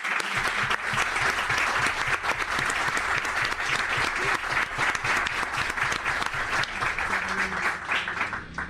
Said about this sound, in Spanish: Para ello un fuerte aplauso